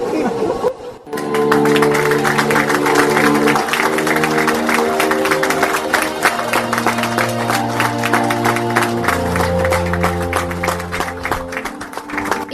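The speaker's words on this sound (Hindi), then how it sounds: "ताली और हंसी की आवाज दिल्ली में आयोजित मैथिली लिटरेचर फेस्टिवल 2018 में स्क्रीनिंग कैल गेल मैथिली लघु फिल्म कवि कल्पना के दौरान की गई" An audience claps during a short Maithili film screening at the Maithili Literature Festival 2018 in Delhi. The steady, loud clapping runs throughout alongside sustained musical tones.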